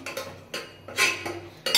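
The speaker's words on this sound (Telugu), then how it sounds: "బాగా తిప్పుకొని" A spoon stirring a watery dried brinjal curry in a pot, producing a few quick, close scraping and clinking strokes in an uneven rhythm.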